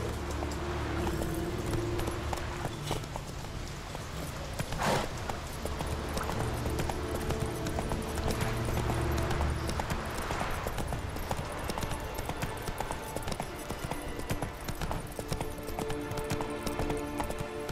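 Horse hooves clip-clop at a steady gallop in The Witcher 3: Wild Hunt, loud and continuous across the whole stretch over a dense game soundtrack, with a brief whinny-like burst partway through.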